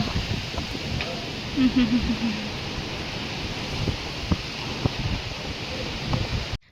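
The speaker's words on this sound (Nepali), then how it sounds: "हेर्नु त यस्तो हावा लागिरहेछ पातहरू यसै ओहो यस्तो छ हावाहुरी।" Strong gusty wind blows through trees and leaves in Goa, a loud, continuous rushing roar with buffeting against the microphone and a few faint tonal calls in the middle.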